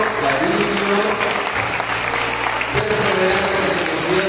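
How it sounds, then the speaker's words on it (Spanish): A school graduation audience applauds its teachers, a steady, dense wash of clapping that holds through the whole moment, with voices murmuring underneath. "este cariñoso aplauso para ustedes, profesores"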